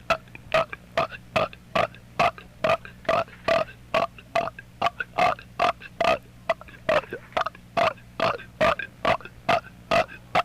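A woman burping over and over, some twenty short deep belches in a quick, fairly regular run, loud and close, with no talk between them.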